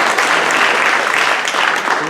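An audience at a Tamil literary festival debate, Muthamizh Vizha 2025, claps in a dense, fairly loud wave of applause that holds steady throughout the moment.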